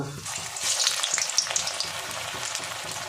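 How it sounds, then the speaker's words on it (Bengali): Puffed-rice chops slipped into oil heated slightly above medium crackle and sizzle steadily, with a dense bright frying hiss and occasional soft stirring knocks, no talk. "তেলটা মোটামুটি মিডিয়ামের থেকে একটু বেশি গরম হয়েছে আমি এবার চপগুলো ছেড়ে দেব"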